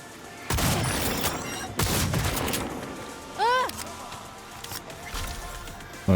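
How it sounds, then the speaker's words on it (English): Gunfire in an action video game, several loud booming blasts at irregular intervals amid busy game effects, with a rising whistling tone in the middle. "I got a shotgun for you."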